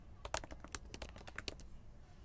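Keys on a computer keyboard clack in a quick, uneven burst of about a dozen close presses while coding a web page interface, then fall quiet.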